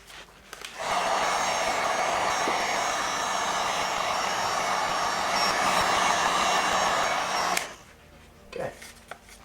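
A heat gun blows steadily for about seven seconds while post-heating tint film on a Tesla Model 3 rear light, a loud, even hot-air roar that starts abruptly and cuts off, followed by a few faint handling clicks.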